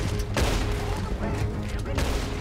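Revolver shots in Red Dead Redemption 2 during a fight over a bank money wagon: a dense, loud volley of sharp bangs over a heavy rumbling backdrop, with several distinct cracks across a couple of seconds.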